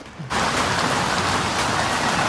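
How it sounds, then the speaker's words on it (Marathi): Heavy monsoon rain at Matheran hill station suddenly swells into a dense, steady hiss of drops pattering on a surface, close and loud. "कंटिन्यू पाऊस पडतो"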